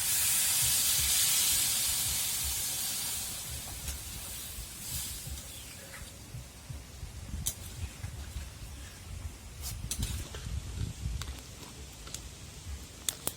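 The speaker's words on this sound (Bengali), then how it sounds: "কষানো হয়ে গেছে, এবার আমি জল ঢেলে দেবো" Water poured into a hot pan of frying ghugni masala with ginger paste hits with a loud, close hissing sizzle that fades over a few seconds into softer bubbling and crackling, with occasional pops and no talking.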